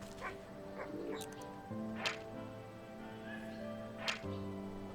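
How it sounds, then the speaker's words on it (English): Short barks from an anxious sheepdog in the Wytchwood video game come a few times, spaced apart, over a steady bed of game music. "Anxious sheepdog. A friend to sheep, despite what some might think."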